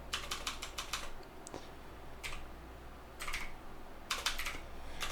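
Typing on a computer keyboard during a job search, with bursts of quick, crisp key clicks separated by short pauses, close and fairly soft, with no speech.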